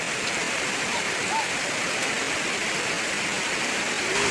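A river in Sta. Praxedes, Cagayan flows in a steady, loud rushing wash of water that runs unbroken and close throughout.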